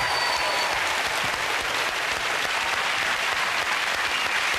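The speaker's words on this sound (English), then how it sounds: "let's hear it again for George" A studio audience at a televised tribute singing show breaks into sustained, dense applause after a performance, steady and even throughout, with faint voices mixed beneath the clapping.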